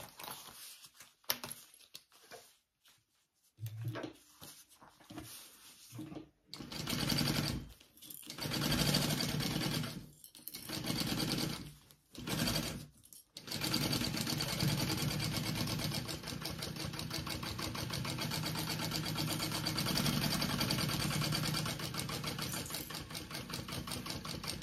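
A sewing machine basting two fabric pieces together, whirring in short stop-start runs before settling into a long steady stitching hum, close by.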